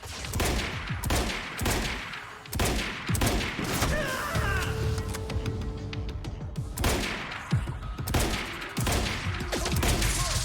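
Shotgun blasts ring out in the shooter game Quantum Break, loud repeated booming shots in irregular bursts amid a chaotic firefight with other gunfire.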